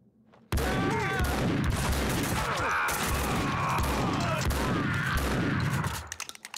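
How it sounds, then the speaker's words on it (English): Loud, sustained gunfire from the video game Max Payne 2 starts abruptly and continues as a dense, rattling barrage for several seconds before cutting off. "Someone must have heard the gunfire."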